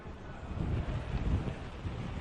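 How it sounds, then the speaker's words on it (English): Strong Hurricane Irma wind gusts roar and buffet the microphone in a dense low rumble that swells and eases over a couple of seconds, with no voices. "it looks like the wind is picking up even more now"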